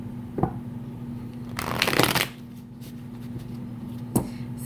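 A deck of tarot cards is shuffled by hand, with a soft flurry of riffling and a few light taps against a low steady hum, close and quiet with no voices.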